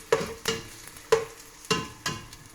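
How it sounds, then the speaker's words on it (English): Courgettes frying in oil in a pan, a sizzle punctuated by four or five sharp, regularly spaced scrapes of stirring, close and clear with no talking. "we're going to fry them until they start to go golden crisp"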